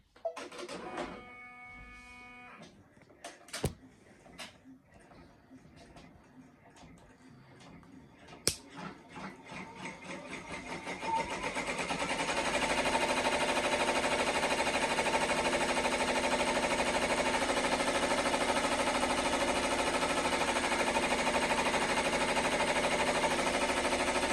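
Embroidery machine stitching appliqué letters onto a throw blank, starting with beeps and clicks, then building into a loud, steady, rapid mechanical whirring and clatter that continues without pause.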